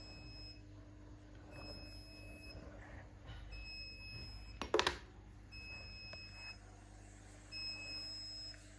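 A small buzzer in an IoT project beeps in short repeated electronic tones, several evenly spaced bursts over a quiet room hum, with one brief louder clatter partway through.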